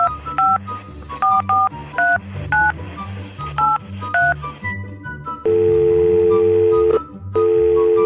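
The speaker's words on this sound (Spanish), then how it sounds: "Haré una llamada." Touch-tone telephone dialing in the Roblox game Brookhaven: a run of short paired beeps in an uneven rhythm, then longer steady tones that sound like ringback, over a looping background music bed.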